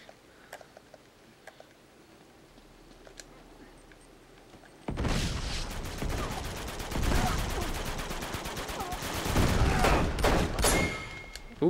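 Uncharted 2 gameplay combat erupts after a quiet stretch of faint ticks into dense rapid gunfire, overlapping shots in a continuous barrage mixed with game effects, from a Desert Eagle pistol among other weapons.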